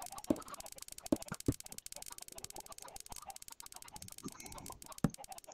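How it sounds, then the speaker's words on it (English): Chickens clucking in a video game, a flock of several birds giving scattered short clucks and squawks at irregular intervals, fairly quiet and close, with no talk over them. "Chickens everywhere."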